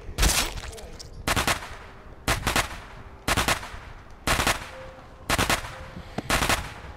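Firecracker arrow bursts in The Walking Dead: Saints & Sinners, seven sharp crackling pops spaced about a second apart, loud and close, with a faint steady hum underneath.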